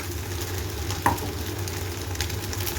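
Egg frying in a pan for chicken fried rice, a close, steady sizzle with a brief stirring scrape partway through.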